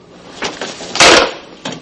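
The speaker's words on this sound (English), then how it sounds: "Doors open." An office door opens with a couple of close knocks and clunks, then a loud whooshing swing in the middle and a final thud, with no talking.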